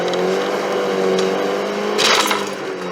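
A VW car engine with an upgraded turbo revs hard in a loud, continuous drone, and a bright hissing rush swells near the end before easing off.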